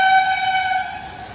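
A local train sounds a loud, sustained horn blast close by that gradually fades, leaving the low rumble of the passing rail cars.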